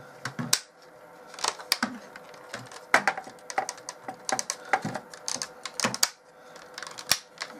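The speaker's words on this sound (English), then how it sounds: "That's what we're just going to untab and click out." Plastic tabs clicking and unclipping while a BigTrak toy is taken apart, giving a steady run of sharp, close clicks and snaps with small rattles in between and no speech.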